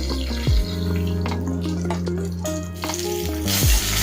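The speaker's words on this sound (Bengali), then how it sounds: "মাছগুলো লাল লাল করে ভাজা হয়ে গেছে" Fish fries in oil, sizzling steadily under a low hum, with brief clinks of a utensil against the pan.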